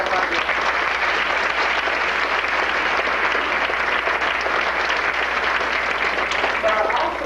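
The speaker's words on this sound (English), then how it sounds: "So if you give them all a round of applause" An audience at a feminist award gathering gives a long, continuous round of applause, a loud, even roar of many hands clapping throughout, with a voice briefly heard above it toward the end.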